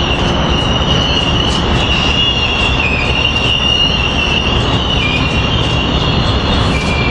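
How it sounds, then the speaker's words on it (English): An Amtrak train slows to a stop, with loud, sustained high-pitched wheel squealing over the rumble of rolling railcars, close by and continuous with no talking. "A little squeaky there trying to stop coming in."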